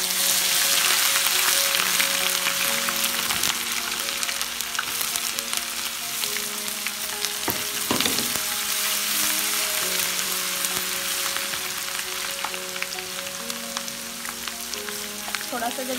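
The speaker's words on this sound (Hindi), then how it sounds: "तो अब इसमें मैं अदरक लहसुन का पेस्ट डाल रही हूँ।" Ginger garlic paste frying in hot oil with whole spices for chicken korma, a steady close sizzle and crackle with a few stirring knocks, while a soft melody plays underneath.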